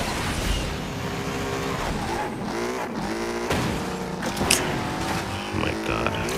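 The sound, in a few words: car driving in a racing video game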